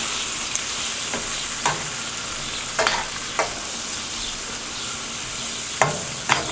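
Chopped onions and fresh garlic sizzle steadily in a hot pan for a bacon jam, with a hiss throughout and a handful of sharp scrapes and clinks as a utensil stirs them, close and without talk.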